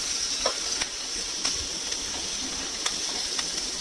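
Onions, ginger, carrots and green chillies fry in a pan with a constant close sizzle. Sharp stirring clicks and scrapes from a spatula break through it at irregular intervals, and no voices are heard.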